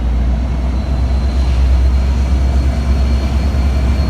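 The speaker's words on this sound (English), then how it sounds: "That's a freight train." A steady, heavy low rumble with a constant roar as a long freight train rolls past nearby without letup, in the Sacramento Delta.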